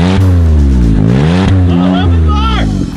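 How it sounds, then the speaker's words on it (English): A Smart car's small engine revs loudly and close in rising and falling surges with sharp gear-like breaks, loud and alone with no talk over it. "You know that this thing is like twice as loud as your Focus RS, right?"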